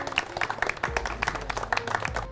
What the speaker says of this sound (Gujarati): તો આપણા પહેલા વિનર માટે જોરદાર તાળીઓ થઈ જાય.